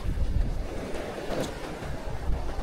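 Wind buffets the microphone and sea waves wash steadily around a small fishing boat out grunter fishing, a continuous rough rush with no voices.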